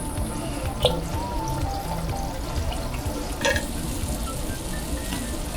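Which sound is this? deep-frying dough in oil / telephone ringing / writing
deep-frying dough in oil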